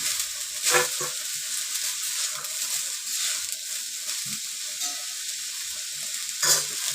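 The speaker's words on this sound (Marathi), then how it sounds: "कोथंबीर कढीपत्ता कढीपत्ता हे असं सुकत भाजायचं" Coriander and curry leaves dry-roast in a pan, giving a close, soft crackling hiss with occasional stirring scrapes and a couple of brief louder rustles as the leaves are moved.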